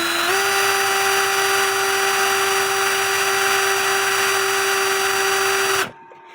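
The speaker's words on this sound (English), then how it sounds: "Put the wheel in your drill." An electric drill with a clock wheel mounted in it whirs at a steady high pitch for several seconds, loud and close, then winds down and stops.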